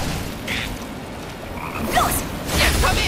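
A frog croaks in the Final Fantasy 7 Rebirth video game, a few short chirpy calls over a steady, noisy game soundscape, with no talk.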